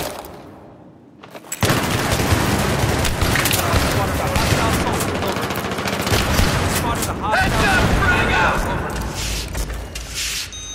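Sustained machine gun fire in a war video game bursts in loud after a quiet second, rattling heavily and continuously with booming impacts under overlapping voices.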